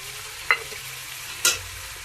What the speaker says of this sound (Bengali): এবার এটাকে ভালোভাবে তেলে কষিয়ে নেবো